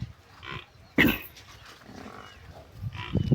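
A freshly calved buffalo offered for sale lets out a short, loud call up close, set against low farmyard noise and scattered animal sounds.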